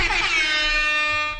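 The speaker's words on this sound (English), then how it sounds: "Sound the air horns because we completed a very powerful minigame" A loud, sustained air horn blast from the video game Freddy Fazbear's Pizzeria Simulator sounds alone for over a second before trailing off.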